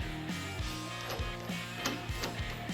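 Ratchet wrench tightening a castle nut on a hub rotor assembly of a Polaris RZR Turbo S trailing arm, a steady train of close, quiet clicking strokes with soft metallic mechanism noise and no talking.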